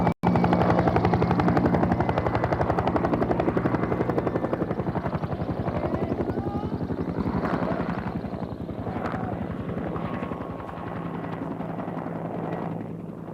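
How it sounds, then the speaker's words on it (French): A helicopter landing roars close by with a heavy, rapid rotor thump that stays loud throughout and eases slightly toward the end, in Ethiopia in 1973. "À lui seul, l'atterrissage de l'hélicoptère explique bien des choses."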